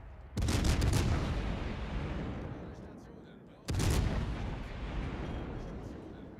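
The enemy battleship King George fires its guns in the naval combat game World of Warships: Legends: two heavy booming salvos a few seconds apart, each a sharp blast trailing off into a long rumbling decay.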